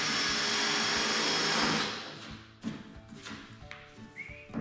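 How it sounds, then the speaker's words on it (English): A power drill with a 1/8 inch countersink bit whines steadily for a couple of seconds drilling pilot holes, then stops, leaving light knocks and handling noises. "Pilot holes were drilled with a 1/8 inch countersink drill bit"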